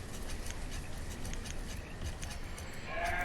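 Sheep bleat in a pasture in the video game Banished, thin and faint beneath a steady bed of game ambience, with a slightly louder call near the end.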